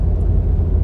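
A Ford Sierra Cosworth 4x4 engine cruises at 2200 rpm at highway speed. It makes a steady, loud low-frequency drone with road rumble and no voices.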